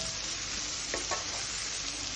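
Vegetables and French beans stir-fry briefly for veg fried rice, a dense continuous sizzle with a couple of quick tossing or scraping sounds, close and alone.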